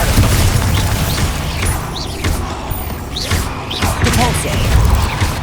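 Blasting Bombarda spell explosions in Hogwarts Legacy, heavy booms and thuds with crackling impacts repeating through dense, loud combat noise, with a voice over them.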